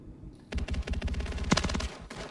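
Rapid automatic gunfire from Modern Warfare 3 in a Gun Game match, a close, loud burst of quick shots lasting over a second, with no voices over it.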